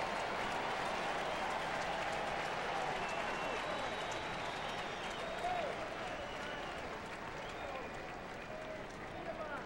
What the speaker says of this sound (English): I was wondering why people were clapping.